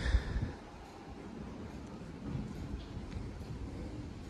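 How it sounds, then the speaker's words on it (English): An express train passes a station in a low, steady rumble, with a brief bump at the start and a rising wash of rail noise partway through. "a express train caught me off guard"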